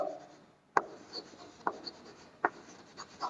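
Chalk or marker scratches and taps against a board during a math lecture, with a few sharp strokes standing out among softer rubbing sounds, close and moderately quiet with no talking.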